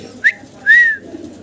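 Male pigeon cooing, two short calls at a fancy pigeon farm selling magpie pouter pigeons, a brief call followed by a longer drawn-out coo, fairly close, over low background noise.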